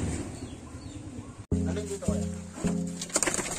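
Pigeons coo in soft, repeated low warbles close by, following a sharp thump partway through, with faint background noise.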